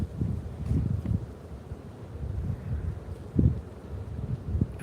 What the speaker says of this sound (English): it's kind of chilly and it's windy